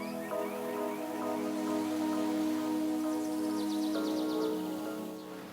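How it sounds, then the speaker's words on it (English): Heavy rain falls in a western Himalayan valley in Himachal, a steady close hiss with a faint tonal drone beneath it and no voices. "it's raining a lot"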